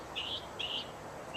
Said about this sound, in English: A bird is chirping.